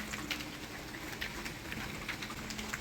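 Steady rain hisses through a stormy night, a dense even patter with a faint low hum beneath and no voices.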